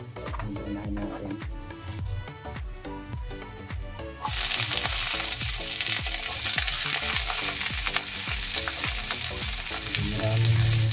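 Vegetables for chop suey stir-frying in a pan with garlic, with a steady sizzle and rhythmic scraping and stirring that swells into a louder, fuller sizzle partway through, close up with no talk.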